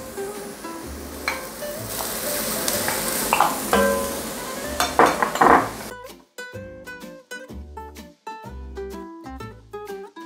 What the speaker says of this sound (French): On va rajouter des lardons.